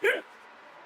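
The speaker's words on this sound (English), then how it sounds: "please ignore my hiccups" A single sharp hiccup sounds close and fairly loud, then gives way to quiet room tone on a screened-in porch.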